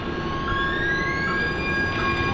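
A Green Line light rail train rumbles steadily past Moos Tower at close range, with a continuous broadband roar and faint high tonal whines from the wheels, no voices.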